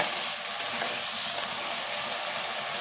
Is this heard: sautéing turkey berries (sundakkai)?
yes